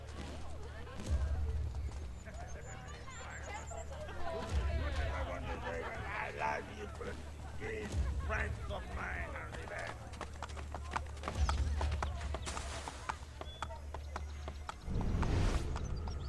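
Horse hooves pound in the game Assassin's Creed: Brotherhood, a rhythmic clip-clop gallop with heavy low thuds roughly every few seconds, mixed with game noise and a voice talking over it.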